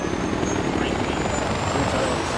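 Whirring rotor and engine drone of a gyrocopter flying in the video game Far Cry 4, a steady dense roar throughout with no break.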